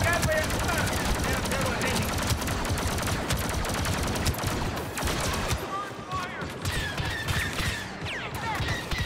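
Dense, continuous blaster fire rattles nonstop in a Star Wars Battlefront II campaign battle against Imperials, with rapid overlapping shots and explosions loud and close, and voices calling out beneath the gunfire.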